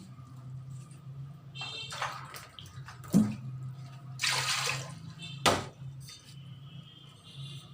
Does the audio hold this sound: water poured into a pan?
yes